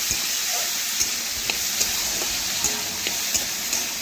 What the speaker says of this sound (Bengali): নাড়াচাড়া করে মিশিয়ে সবজি একটু ভেজে নিচ্ছি